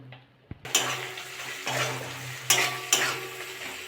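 Ginger paste and ground spices fry in a pan for a prawn, potato and bottle-gourd-stem curry, a steady close sizzle broken by a few louder stirring scrapes.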